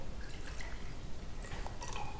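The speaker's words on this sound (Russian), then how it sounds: "в два стакана мы нальем" Cold water pouring into two glasses at a home table: a continuous close splashing trickle with faint rising fill tones and a few drips, alone.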